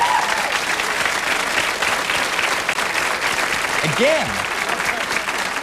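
A talk show studio audience applauds steadily throughout, a dense wash of clapping that holds at the same level from start to finish.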